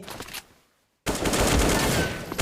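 AK47 Enterprising gunfire in a video game, a short burst of rapid shots, then a brief silence and a second loud, sustained volley close up.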